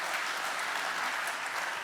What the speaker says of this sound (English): you can clap to that one